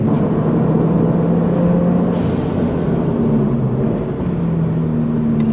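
A Subaru car accelerates hard out of a corner, its steady engine drone and road roar loud and continuous with shifting engine tones throughout, no talking.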